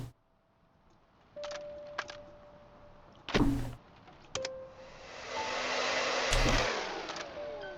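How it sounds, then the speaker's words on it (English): Clicks and clunks of handling come first, then a hair dryer switches on and blows steadily to clean camera equipment, a close, loud, continuous whoosh with a few knocks and bumps over it. "is it a hairdryer or is it a steamer? To clean camera equipment."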